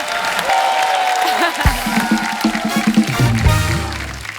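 Studio audience applause and cheering on a Hindi TV comedy show as actress Sonakshi Sinha is welcomed onstage, a dense steady wash of clapping under music, with a host speaking over it.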